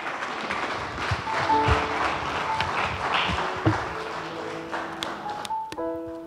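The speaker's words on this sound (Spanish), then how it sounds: "Denle un fuerte aplauso al Señor." Congregation clapping at a church service, a loose spread of handclaps with scattered sharp taps and a few short tones over a low background, easing off near the end.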